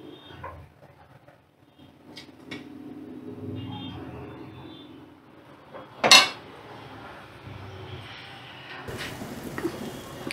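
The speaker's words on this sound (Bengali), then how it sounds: "দেখো এটা এবার আমি প্লেটে সার্ভ করে দিচ্ছি।" Soft clinks and scrapes of a spoon and plate while chicken kala bhuna is served, with one sharp metallic clink standing out midway over quiet kitchen background.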